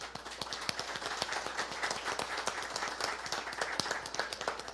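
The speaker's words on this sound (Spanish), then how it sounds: "démosle un aplauso al Espíritu Santo" A church congregation claps together in a steady, fairly quick rhythm, many hands striking in near unison, moderately distant and soft, with no voices over it.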